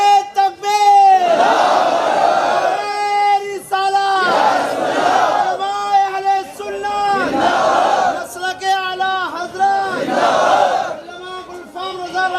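A large crowd at a religious gathering shouts its response to the Naara-e-Takbeer call, loud chanted cries repeating in waves several times with brief pauses between them.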